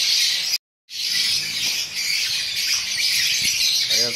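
Pet birds squawk in their cage, a dense, harsh chorus of close, loud calls that runs throughout, broken by one short gap of silence, with faint chirps beneath.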